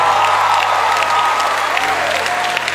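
An audience applauds and cheers at a live event, producing dense, sustained clapping with crowd noise throughout, loud and close.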